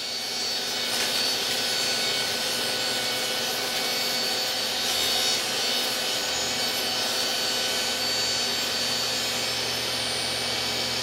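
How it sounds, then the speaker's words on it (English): Saw cutting through an OSB top panel for a DIY powered subwoofer enclosure, a steady, continuous rasping grind that holds evenly for about eleven seconds, close to the microphone, with no talking. "I started cutting the OSB top panel"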